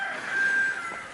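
A Chinese goose gives a single sustained, nasal honking call, fairly close and loud, with no other sound over it.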